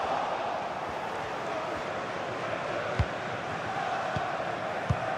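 Football stadium crowd cheering a player on, a continuous broad roar at moderate distance with a few sharp thuds standing out.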